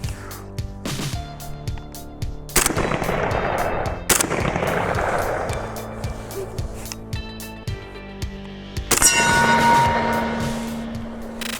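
An IWI Tavor TS12 bullpup 12-gauge shotgun fires slugs at a range, a handful of loud, sharp blasts spaced a few seconds apart, each followed by ringing echo and mechanical clatter.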